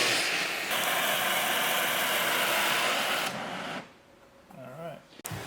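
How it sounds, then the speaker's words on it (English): Metal bender forming a steel pipe in a garage workshop during a turbo and external wastegate install on a Toyota 1JZ VVTi, giving a loud, steady mechanical grinding rasp for several seconds before cutting off into quieter room noise. "got a metal bender here"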